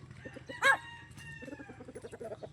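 A rooster crows once, loud and close, amid a flock of chickens clucking and chattering steadily at a backyard breeder's yard in Rosario, Batangas.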